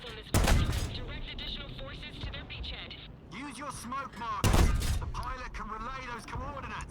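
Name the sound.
tank cannon shot at enemy turret in Operation Overlord video game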